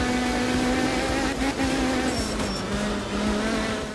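Lancia ECV2 rally hot hatch in Art of Rally, a tiny four-cylinder engine making over 700 horsepower: a steady, loud, buzzing engine drone that dips and rises in pitch as the car shifts and takes corners.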